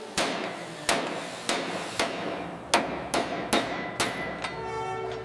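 Hammer blows ring out on the steering-band brake linings of an M4A3E8 Sherman tank under restoration, about nine sharp metallic strikes at an uneven pace, close and loud, each trailing into a short ringing decay.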